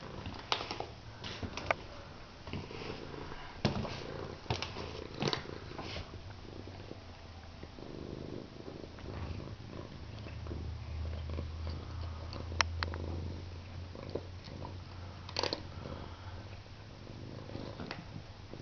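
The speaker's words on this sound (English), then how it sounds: "Purring, chowing down cat." A cat purring steadily while eating, with a soft continuous rumble under faint irregular clicks and chewing or lapping sounds, close by.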